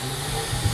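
A vacuum cleaner runs with a steady broadband hiss and low motor hum, used to float a balloon in a dynamic pressure demonstration; the drone holds even throughout with a slight swell near the end.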